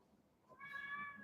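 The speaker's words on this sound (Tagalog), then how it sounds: "narinig ko yung meow-meow ni Kala" A pet cat named Kala gives a single drawn-out meow from close by, a clear tonal call rising partway through against a quiet room.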